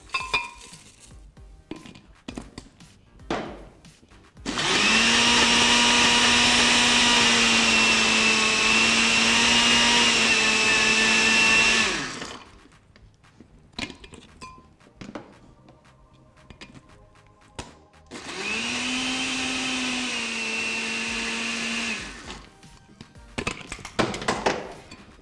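A kitchen blender crushes granola together with cookies in two loud, sustained bursts, the first about seven seconds and the second shorter, separated by quieter handling noises and clinks, with no talking.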